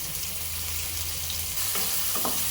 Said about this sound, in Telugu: కొంచెం లైట్గా బ్రౌన్ కలర్ వచ్చే వరకు మనం వీటిని నెయ్యిలో వేయించుకోవాలి